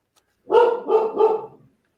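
A dog barks three times in quick succession, loud and close, each bark full and slightly rough, with near silence before and after.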